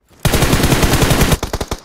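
Rapid automatic gunfire in the video game BGMI, a loud close burst of evenly spaced shots lasting about a second, followed by a few slower single shots, with no talking.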